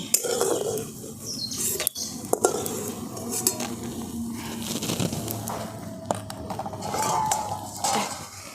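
A spoon scrapes and clinks against a metal pan as fried lentil dumplings are lifted out, with light sizzling oil underneath and a few sharp knocks, close by and fairly loud.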